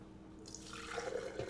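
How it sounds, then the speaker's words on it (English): Homemade bone broth pours slowly into a container, a soft, faint trickle and drip building gently over a quiet background. "I feel comfortable just slowly pouring it right into here"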